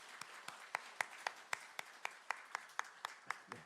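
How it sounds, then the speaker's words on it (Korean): A church congregation at Sunday worship clapping together in a steady, even rhythm, about four claps a second, soft and somewhat distant in a large room. "우리 축복의 박수 한번 하도록 하겠습니다"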